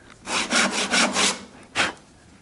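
Handsaw cutting wood for a T halving joint: four quick back-and-forth rasping strokes in a steady rhythm, a short pause, then one more stroke, close and loud with no talk.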